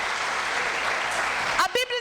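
Congregation applause at a church sermon, a dense, steady wash of clapping that fills most of the moment before a voice cuts in near the end.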